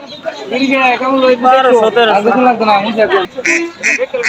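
Ducks quack loudly and repeatedly nearby in a busy cluster at a poultry market, with a few sharper calls and bits of voices mixed in.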